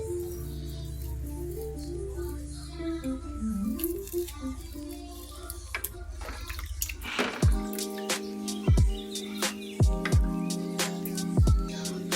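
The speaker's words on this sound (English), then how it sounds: "Now I'm going to be washing my mutton with some lime and vinegar and cleaning it." Mutton being washed with lime and vinegar, heard as wet drips and splashes of liquid, irregular and close, following a stretch of background music at the start.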